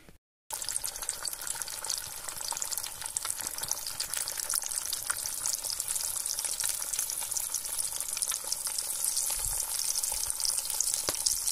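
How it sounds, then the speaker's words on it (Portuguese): Two eggs frying in a pan in a rural farmhouse kitchen, a dense continuous crackle and spatter heard up close for several seconds after a brief quiet start. "Aí eu vou fritar aqui uns dois ovos."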